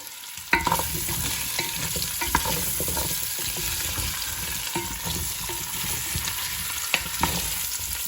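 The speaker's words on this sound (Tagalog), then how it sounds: "I'm going to fry as well the carrots" Carrots fry in a pan with a steady, close sizzle, punctuated now and then by sharp clacks of a utensil stirring them around, with no talking.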